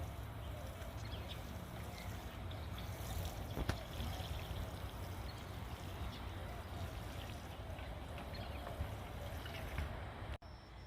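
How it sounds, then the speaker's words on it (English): Water pouring from a watering can onto garden flower beds, a steady splashing, trickling wash close by that runs continuously, ending with a brief thump. "You will water these. 1 can should be enough for both."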